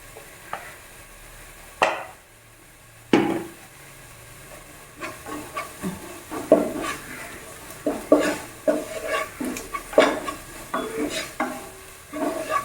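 Spices such as chili powder stirred into a hot pan, a spoon scraping and clattering in a run of irregular strokes over a soft sizzle, close and fairly loud, with no voices.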